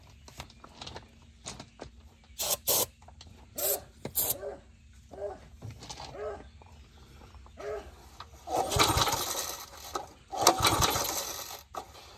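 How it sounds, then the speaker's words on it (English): Brake cleaner is sprayed from an aerosol can into an old garden tiller engine, giving two loud hissing bursts near the end that follow scattered mechanical clicks and scrapes from working on the machine. "shoot a little bit of brake clean in here and see if this thing will fire real quick"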